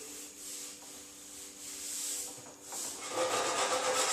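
Hand sanding a 2010 Honda Civic sedan fender repair with 180 grit paper on a block, quiet rhythmic back-and-forth scratchy rubbing strokes, growing louder and brisker toward the end, with no talking.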